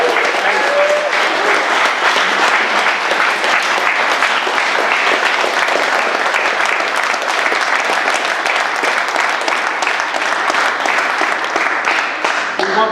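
Sustained audience applause fills the room, dense steady clapping from a large crowd at an event celebrating passage of gender recognition legislation, continuous and loud throughout.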